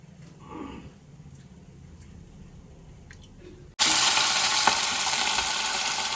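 Egg toast hits a hot pan in a home kitchen, a loud burst of frying sizzle erupting suddenly after quieter kitchen clatter and faint movement, then holding steady and close.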